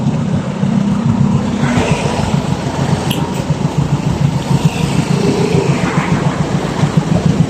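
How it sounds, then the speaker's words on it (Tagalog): Toyota 4K engine revving on a newly built car, a loud, steady low rumble that holds throughout with a continuous drone. "So, papagas lang tayo. Yan, Toyota 4K yung engine."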